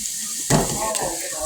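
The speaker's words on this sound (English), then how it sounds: "Crushed red pepper, anchovies, onions, frying up nice." Crushed red pepper, anchovies and onions fry in a pan, a close steady sizzle and hiss with a brief louder flare as the pan is stirred.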